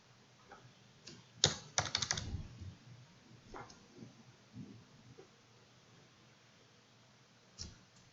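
Typing on a computer keyboard while entering Docker installation commands in an Ubuntu terminal: a few quick bursts of close, light key clicks early on, then scattered single taps and a last click near the end, with no talking.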